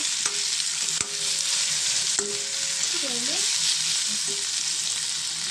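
Coriander leaves and green chillies fry in a hot pan with a loud, continuous close sizzle, punctuated by a couple of sharp clicks of a utensil against the pan; no voices.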